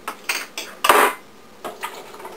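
Ingredients tumble into a crock pot with a spoon: a handful of clattering knocks and scrapes, one louder thunk of food dropping in, then a few lighter taps against the pot.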